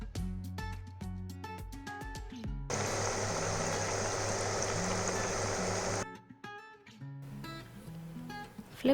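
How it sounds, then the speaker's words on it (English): Buckwheat cutlets go into hot oil in a pan, setting off a loud, hissing sizzle that lasts about three seconds between stretches of plucked background music. "Heat some oil in a pan and add the cutlets to it."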